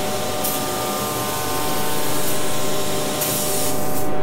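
Loud steady hiss of a spray gun laying a wet pale gold base coat of paint onto a replica shield, continuous and close with slight swells in intensity.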